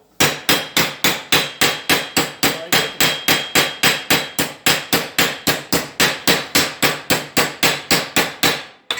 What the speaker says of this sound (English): I'll take it over onto this now, top of the bottle, and I'll plamish it out